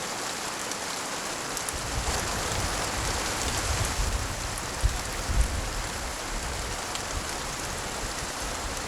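Steady rain pours as a dense, even hiss, with a few louder spatters on a surface. No voices are heard.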